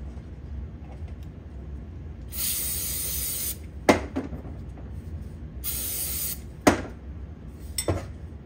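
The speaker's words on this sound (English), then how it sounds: "Pretty much as long as you spray, you'll have dirty stuff coming out of it." An aerosol spray cleaner blasts dirt out of a Subaru STI DCCD unit in two sharp, hissing bursts, with metallic clinks and knocks of parts being handled in between.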